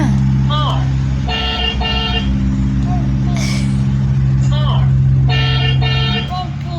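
A vehicle engine rumbles steadily up close, with several horn-like tonal blasts and voices talking over the noise.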